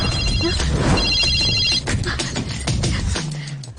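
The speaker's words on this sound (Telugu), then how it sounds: "ఇప్పుడు ఎలా ఫోన్ వస్తుందో చూస్తాను." A telephone rings in a Telugu action film scene, a loud repeating electronic bell pattern over busy background music and effects, with no one talking.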